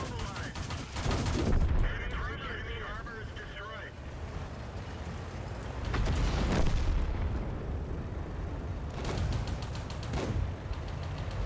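Tank cannon fire and explosions in World of Tanks play as a Pz IIJ, heavy booming blasts over a constant rumbling battle din, with a voice talking throughout.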